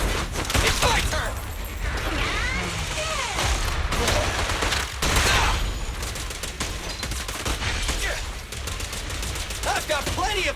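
Rapid gunfire and bursts of shooting from the video game Zenless Zone Zero, sustained and loud throughout with dense overlapping effects.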